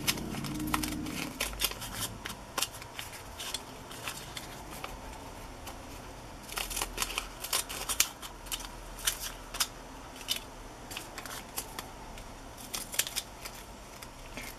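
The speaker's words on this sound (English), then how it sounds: "I got my deco scissors right here." Deco scissors snip through textbook paper in a run of crisp, close cuts, spaced unevenly and then clustering into quick bursts, quiet and without any speech.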